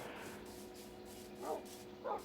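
A Minecraft dog gives two short, soft barks spaced about half a second apart, faint and small-sounding against a quiet background.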